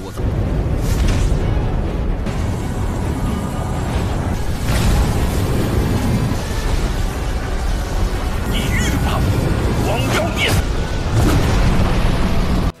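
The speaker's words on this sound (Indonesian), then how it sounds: "Dampak dari ledakan itu sampai membuat seluruh aliansi hitam bergoncang keras" A loud, sustained rumbling blast with repeated booming bursts, dense low roar filling the whole stretch without pause.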